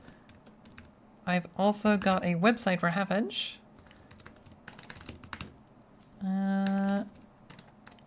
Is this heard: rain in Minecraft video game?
no